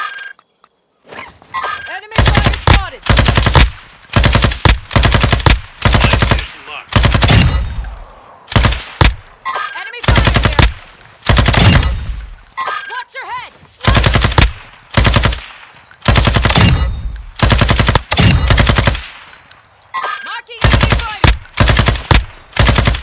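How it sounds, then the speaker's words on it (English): Rapid automatic gunfire bursts in Warzone 2.0 DMZ, a combat video game, repeating loudly and densely across the whole stretch with short gaps between volleys, mixed with thuds and an intermittent game voice. "You are taking effective fire."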